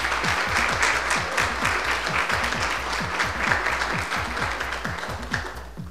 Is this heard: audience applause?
yes